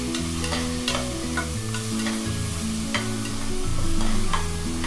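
Onions sauté for mutton keema rice, making a continuous sizzle punctuated by frequent stirring clicks, with steady tonal background music underneath.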